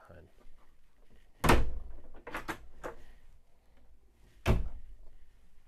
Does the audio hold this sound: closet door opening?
yes